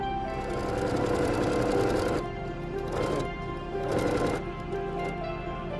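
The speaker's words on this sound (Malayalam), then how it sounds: "ഇനി നമുക്ക് കറക്റ്റ് ഈ എഡ്ജിൽ കൂടെ സ്റ്റിച്ച് ചെയ്ത് കൊടുക്കാം." A sewing machine hums in steady bursts while stitching along the edge of a canvas-and-lace neckline, close and even, stopping briefly twice between runs.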